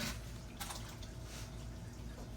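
Leftover casserole mixture is poured into a casserole dish, a faint, brief liquid trickle and drip with a couple of soft splats.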